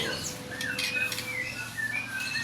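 A songbird wearing a bandit ring coded 19 chirps and tweets repeatedly, with short rising and falling calls coming close and clear over a steady low background hum.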